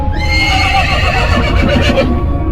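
A cartoon horse whinnies loudly and continuously in a long, wavering neigh, with a faint clip-clop of hooves beneath it and no talking.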